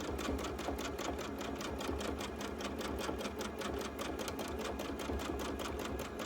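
A sewing machine stitches a baby quilt with a fast, steady, even rattle of needle strokes that runs unbroken the whole time. The machine is close and fairly quiet, with no talking.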